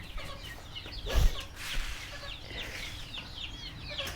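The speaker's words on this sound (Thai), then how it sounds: "ไก่ลายเต็มโคก" Chickens in a Thai village coop, a free-range flock crowding the yard, cluck and chatter steadily at a moderate distance, with soft overlapping calls throughout and one brief low thump near the start.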